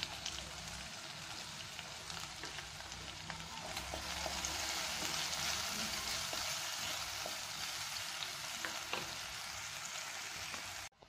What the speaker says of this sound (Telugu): ఈ ఆనియన్స్ ఫ్రై అయినాయి.